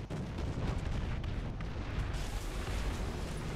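Artillery fire in War Thunder during a tank battle rumbles as a steady, dense low roar of distant booms and blasts, with no pauses.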